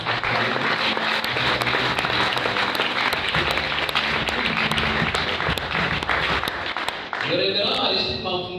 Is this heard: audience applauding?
yes